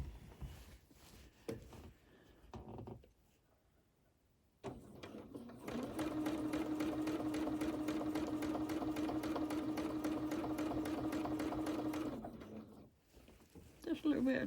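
A domestic sewing machine runs steadily during free motion quilting along a quilt border, humming continuously for about six seconds after a brief quiet stretch, with a person chatting before and around the stitching.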